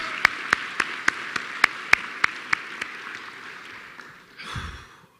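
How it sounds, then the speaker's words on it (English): A few people clap at a Bahrain School Class of 2022 graduation ceremony, sparse and distinct slaps in an uneven rhythm, close and moderately loud, fading out after about three seconds, followed by a short low rumble. "Another round of applause."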